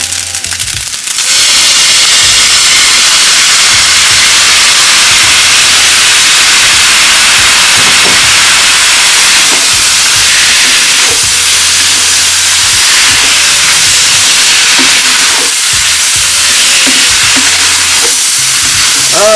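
Loud, steady sizzle and hiss as creamy Marry Me sauce hits a hot pan of chicken fried rice, a dense frying crackle running continuously with small pops and stirring scrapes throughout.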